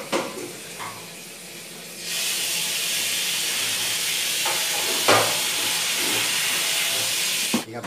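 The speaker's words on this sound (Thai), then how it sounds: "น้ำเดือดละ" Steady broadband hiss of water at a rolling boil in a pot for cooking duck, loud and continuous after a quieter start, with a few brief clanks near the end.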